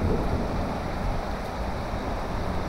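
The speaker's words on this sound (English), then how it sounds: "haven't seen any lightning yet, but we've heard the thunder." Steady broadband rumble of a monsoon storm in Apache Junction, Arizona, with thunder rolling low beneath constant rain or wind noise, loud and continuous with no voices.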